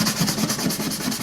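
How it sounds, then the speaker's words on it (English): Sandpaper works old finish off the body of a Fender Palomino guitar, giving a steady, close, rasping rub with rhythmic back-and-forth strokes and no talking. "Now we're back to sanding this stuff off of here."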